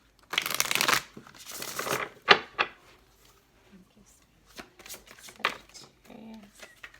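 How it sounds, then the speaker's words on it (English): A deck of tarot cards is shuffled up close in several quick riffling bursts with pauses between, under a soft voice speaking quietly. "this will be our last shuffle"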